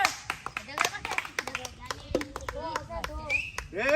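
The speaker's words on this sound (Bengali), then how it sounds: "সবাই হাত তালি" Spectators at a traditional Bengali village pot-breaking game (haribhanga) clap their hands in brief uneven bursts, mixed with loud overlapping shouts and talk from the crowd.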